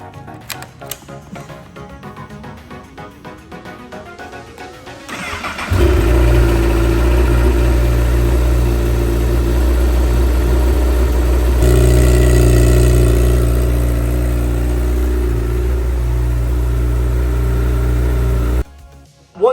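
Honda CBR1000RR motorcycle engine first cranking with a rising starter whine, then catching and idling in a loud, steady low rumble for over ten seconds before cutting off near the end.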